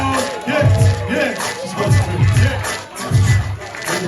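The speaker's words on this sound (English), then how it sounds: "Start clapping right now." Crowd at a comedy ribbon-cutting event in Harlem bursts into clapping and cheering, a dense, loud wash of applause that swells in waves with raised voices mixed in throughout.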